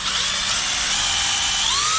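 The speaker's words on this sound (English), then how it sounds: "So if we now hook the drill up to this" An electric drill spins the dynamo of a pre-war Riley Brooklands, a loud, steady whine close by with a rising tone near the end.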